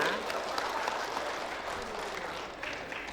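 Audience clapping fills a hotel function room in Makassar during a skin care company's founder success-story event, a dense, steady patter of many hands held at an even level for a few seconds.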